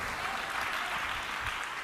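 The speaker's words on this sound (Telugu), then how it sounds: "సంతోషం అంటే ఒకసారి చప్పట్లు కొట్టి దేవుని స్తుతిద్దాం" A church congregation claps together in praise of God, a dense, steady burst of applause from many hands filling the room for about two seconds.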